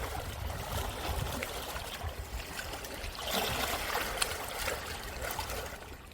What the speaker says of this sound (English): Take a moment and just listen to the waves.